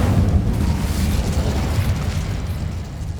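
A fire spell cast in Hogwarts Legacy makes a loud, sustained roaring burst with a continuous whooshing rumble, steady for about three seconds with no voice over it.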